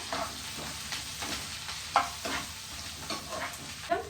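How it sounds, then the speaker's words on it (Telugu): Sliced onions sizzle in hot oil in a pan for a green chilli egg fry, with a spoon scraping and stirring them in soft repeated strokes. The frying is steady and fairly quiet, with no voices. "ఆనియన్స్ యాడ్ చేసేసాను ఒకసారి కలిపేసుకుందాము"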